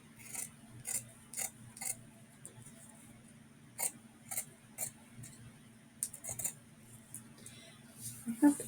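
Scissors cutting paper while crafting a strawberry-themed journal, a series of short quiet snips in irregular bursts close by against a faint room hum.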